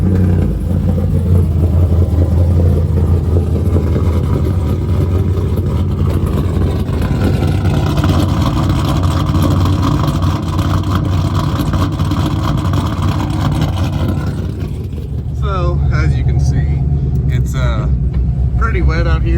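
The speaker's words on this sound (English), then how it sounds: "the car hasn't been started up since my last video actually, so thought might as well get a cold start" A car engine running after a cold start, a steady loud rumble with idle and light revving throughout, on a wet morning outdoors; a person talks over it briefly near the end.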